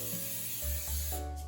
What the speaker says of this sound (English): I just spray them down with canola spray. Flip them over, spray them down again.